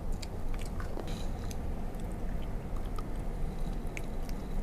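Close, steady chewing and squishy biting of shrimp with pickled egg yolk, a dense moist mastication sound with a few soft crunches, heard alone without talk.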